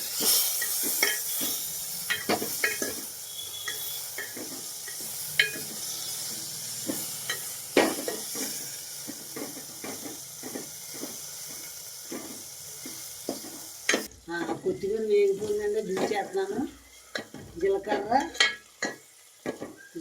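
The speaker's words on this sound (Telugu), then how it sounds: "కొత్తిమీర కొత్తిమీర జీలకర్ర నూనెతో వేగుద్దండి" Cumin seeds and coriander fry in hot oil in a pan, a strong continuous sizzle and hiss with frequent stirring scrapes and clinks of a ladle, quieting later as the sizzle fades and stirring clatter continues.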